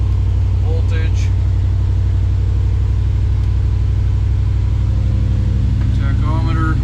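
1956 Chevrolet Bel Air engine idling steadily after a cold start, a deep continuous low rumble, with someone talking faintly over it at times.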